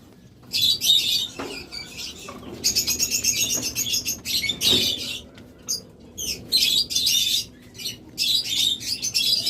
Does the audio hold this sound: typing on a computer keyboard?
no